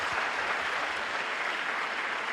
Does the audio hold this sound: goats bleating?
no